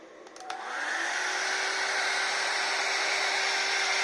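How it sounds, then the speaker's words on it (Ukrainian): An 800 W hair dryer, used as a load on an inverter, clicks on and spins up into a steady, loud whooshing whine that continues without change, close by. "Зараз навантажимо таким феном 800 Вт."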